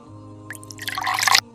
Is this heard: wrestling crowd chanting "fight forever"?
no